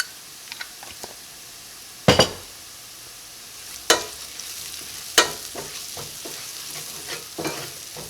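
Onions for a chickpea curry sizzle and fry steadily in a pan, punctuated by a few sharp scrapes and clinks of a spatula stirring, with no voices.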